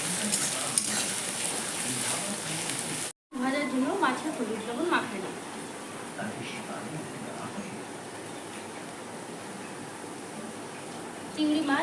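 Chopped onion dropped into hot oil, frying with a steady broadband sizzle and occasional stirring scrapes, fairly close, while someone talks over it.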